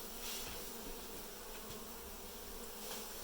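A dense swarm of honey bees hums without pause during a hive cutout in Dorrance, Kansas, steady and near, with no voices present.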